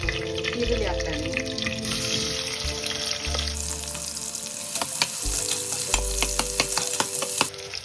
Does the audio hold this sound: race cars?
no